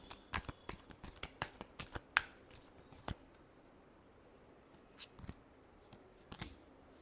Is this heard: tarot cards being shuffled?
yes